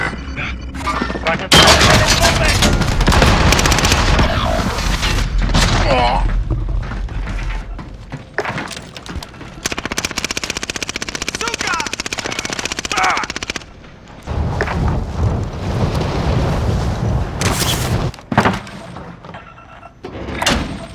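Video game gunfire in Call of Duty: Modern Warfare, with loud rapid automatic bursts and single shots alternating with brief pauses, mechanical clanks and occasional booms across a long firefight.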